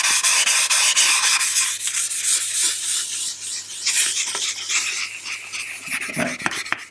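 Hand sanding a timber dovetail box, working up a slurry on the wood surface: continuous close scratchy rubbing strokes in a steady back-and-forth rhythm, loud and alone with no talk.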